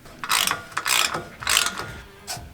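Ratchet tightening the rear differential plug on a Nissan Patrol GQ, giving three or four quick close bursts of rapid pawl clicking with short pauses between them.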